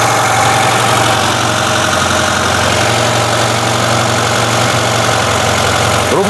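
A car engine, its cooling system filled with refrigerant instead of antifreeze, idles steadily and loudly close by, a constant low rumble with a slight rattle throughout, no voices.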